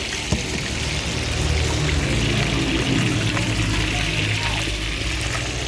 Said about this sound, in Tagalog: lagyan po natin ng isang tasang sabaw ayan tubig parang kulang pa po dagdagan pa natin ang kalahating tasa